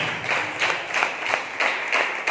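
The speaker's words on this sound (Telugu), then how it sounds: "నమ్మిన వాళ్ళు ఒకసారి చప్పట్లు కొట్టి దేవుని స్తుతించాలి" Church congregation clapping together in praise during a Sunday service, a steady run of dense overlapping handclaps in repeated bursts, fairly close and loud throughout with no clear voices.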